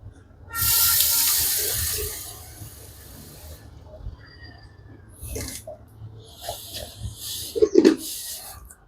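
Tap water pours into a water filter can in a brief steady hissing rush for about three seconds, followed by quieter splashes and the clatter of handling the container.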